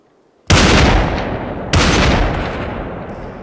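Two loud, sharp gunshot blasts from the VR shooter game Population One, about a second apart, each followed by a long reverberant decay.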